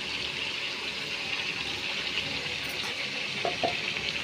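Ginger, garlic and green chili masala frying in oil with potatoes and kohlrabi, a continuous dense sizzle close up with a faint stirring scrape near the end, no talking.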